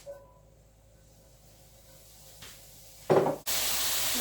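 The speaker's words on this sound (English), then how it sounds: "Everything is cooking nicely in the pan" Diced pepper and onion hit a warm pan after a quiet stretch with a few soft knocks, then a sudden loud burst that settles into steady, close sizzling.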